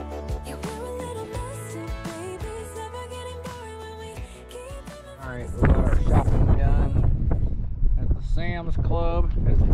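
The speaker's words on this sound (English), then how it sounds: "It's very, very windy out." Strong wind blows outdoors across the street from a Sam's Club, buffeting the microphone with a rushing roar that grows heavier partway through, while a person talks over it.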